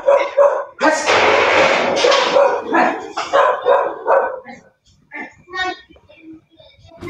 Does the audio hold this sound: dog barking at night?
yes